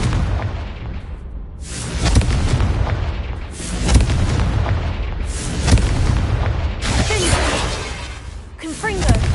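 Explosive Confringo spell blasts in Hogwarts Legacy, a run of loud booming bursts and crackling impacts repeating every second or two, layered over dense game action noise with a shouted spell name.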